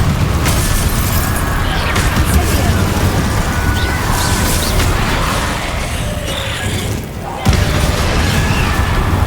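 Spell blasts and explosions from Hogwarts Legacy boom and crackle almost nonstop, loud and dense, with a brief dip near the end before another burst hits.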